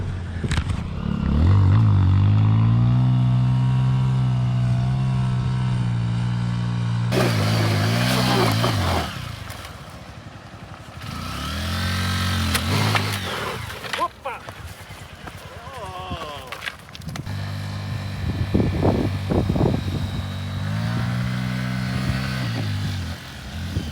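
A Honda XR150L, a 12-horsepower single-cylinder motorcycle, rides across beach sand, its engine droning loudly and steadily with pitch rising and falling as the rider throttles up and eases off, with a voice speaking over it.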